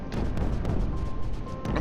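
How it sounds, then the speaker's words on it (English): Explosions in the video game Creeper World 4, a dense, rumbling series of booms and crashes overlapping in quick succession for under two seconds. "Oh, so many explosions."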